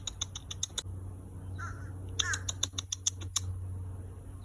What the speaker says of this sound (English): Come here, crow.